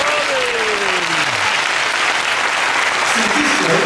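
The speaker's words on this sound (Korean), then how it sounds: "하나님께 영광의 박수를 드립니다." Church congregation applauding to give glory to God during a revival worship service, dense loud sustained clapping from a large crowd, with a brief voice or sliding tone near the start.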